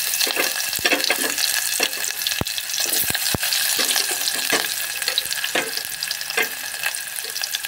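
Mustard seeds and onion fry in hot oil in a steady, loud sizzle, with crackling pops and sharp spatters scattered throughout and no talking.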